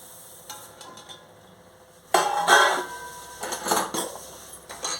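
Sesame seeds being stirred into melted jaggery in a pan for sesame chikki, giving scraping, clinking utensil-on-pan strokes in uneven bursts that turn louder and busier midway, close and without speech.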